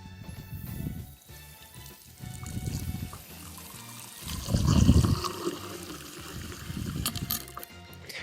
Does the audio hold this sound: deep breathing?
no